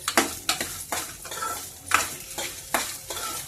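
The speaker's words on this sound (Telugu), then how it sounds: "వేగుతున్నాయి కదండి." Green and dried red chillies fry in a pan for a Telugu mint and raw mango chutney, giving a steady close sizzle broken by repeated stirring scrapes and light clinks of a utensil against the pan, with no talking.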